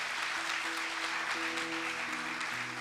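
A church congregation claps continuously during a worship service, a dense, even wash of applause with music sustaining underneath.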